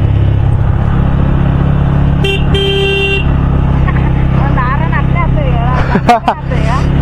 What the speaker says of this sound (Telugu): కంటిన్యూస్ ట్రక్స్ ఉన్నాయి ఫ్రెండ్స్, బాగానే.